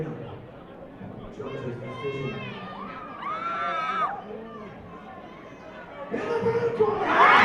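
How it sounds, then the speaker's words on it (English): A fight night crowd grows excited, its chatter and shouts rising into louder cheering toward the end, with voices talking over the noise throughout. "We have the crowd getting really crazy right now."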